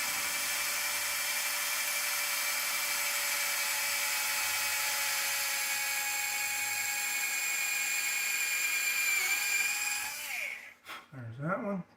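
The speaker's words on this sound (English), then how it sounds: "drilling one hole up from that" A small drill with a 3mm bit whines steadily at high pitch while boring a hole in a carbon tower, then winds down and stops near the end, followed by brief handling noises.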